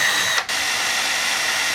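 A handheld power drill whirs continuously during work on a car's vent window, a steady, close whine with a brief dip partway through.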